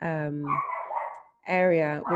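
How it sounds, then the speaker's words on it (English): A neighbor's dog barks twice, fairly close and loud, behind a person speaking in a quiet indoor setting. "Neighbor's dog, I can do nothing about it."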